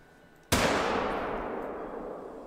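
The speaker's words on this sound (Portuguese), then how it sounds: "Tiro dado." A single sharp rifle shot firing a polymer-tip bullet in the hunting game The Hunter: Call of the Wild, loud and close, cracking suddenly out of quiet ambience and followed by a long, slowly fading echo.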